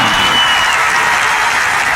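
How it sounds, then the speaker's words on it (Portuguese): Applause from a studio audience welcoming a guest on a talk show: a dense, loud wash of clapping that holds steady for the whole moment without any clear speech. "um aplauso para minha irmã Mini Blá"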